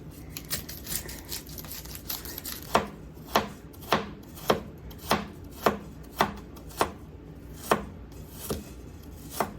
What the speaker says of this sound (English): We need some finely diced onions.